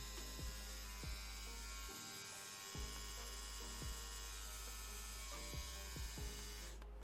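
A Neuma 4 tattoo machine, wrapped for use, runs with a steady electric buzz and hum, with a few soft low thuds from handling along the way.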